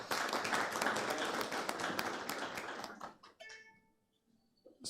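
An audience at an evening book club gathering applauds with dense, lively clapping for about three seconds before it thins out and stops.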